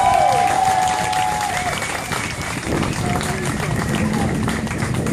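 A rally crowd applauds in a dense, continuous wash of clapping that stays loud and even throughout, with scattered voices mixed in.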